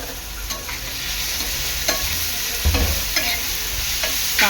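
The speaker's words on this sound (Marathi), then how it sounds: "चांगलं परतून घ्यायचं आहे" Crushed ginger, garlic and chili sautéing in a pan for an Agri-Koli tuna burji, a steady close sizzle with occasional scraping stirs, no talking.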